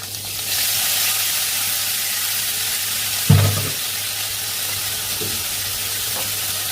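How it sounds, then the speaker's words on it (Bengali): Green chillies and oil sizzling in a frying pan, a loud steady hiss throughout, with a sharp burst of spattering just past the midpoint and a couple of smaller crackles after, no talking. "টকবক করে ফুটবে কিন্তু, একটু সাবধানে।"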